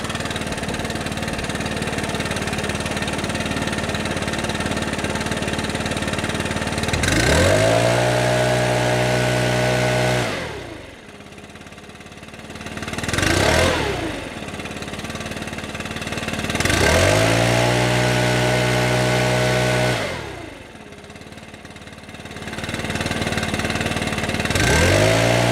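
A Stihl BR600 backpack leaf blower engine is revved to full throttle and eased back repeatedly, loud and close, its roar swelling and dropping between idle and wide-open throttle in a regular cycle with no talk.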